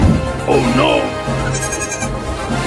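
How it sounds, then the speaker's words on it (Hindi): Young goat kid bleating in a wavering, rising and falling cry in the foreground of a cartoon scene, with music or background sound running underneath throughout. "अरे वाह, बकरी का बच्चा"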